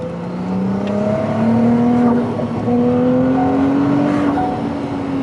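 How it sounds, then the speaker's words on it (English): Ferrari 296 GTS V6 turbo whistling as the car accelerates, a rising whine climbing in pitch over a moderate engine note, heard from inside across a few seconds with no talking. "The turbo whistle is something else."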